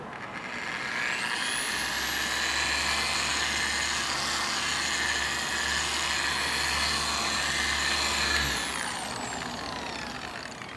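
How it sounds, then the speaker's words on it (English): A Porter Cable polisher running at low speed, working product into the neglected paint of a truck: a steady, continuous whine that spins up, holds for several seconds and winds down near the end, alone without talk. "I'm gonna lower my speed. So let's say 3. I'm gonna put it in and I'm just gonna massage it into the paint"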